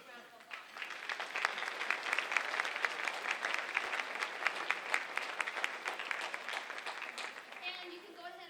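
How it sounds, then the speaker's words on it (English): Sustained applause from an audience at a community awards ceremony honoring nominees, dense steady clapping lasting several seconds before fading as a voice returns at the end. "Let's give every one of our nominees a big round of applause."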